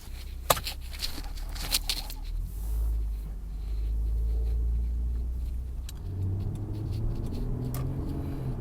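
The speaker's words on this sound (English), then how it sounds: "now I'm going to be taking this car for a drive" Interior drive in a 2001 Mitsubishi Magna Si: a low engine rumble and road noise build as the car pulls away, with a few clicks and taps early on.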